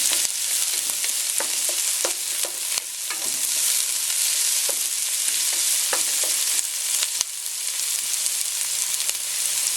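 Sliced carrot stir-frying in a pan on medium heat, a steady loud sizzle broken by frequent sharp scraping clicks of a utensil stirring, with no voices.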